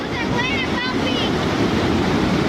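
Ocean surf and tidal waves washing in a steady, broad roar with wind buffeting the microphone, continuous and fairly loud throughout.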